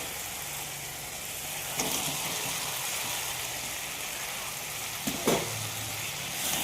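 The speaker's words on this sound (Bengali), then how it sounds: "সবজিটা দিয়েছি, এবার একটু নাড়বো" Steady sizzling of vegetables added to fried spices fills the pan throughout, with a couple of brief scraping clatters as the food is stirred; no voices.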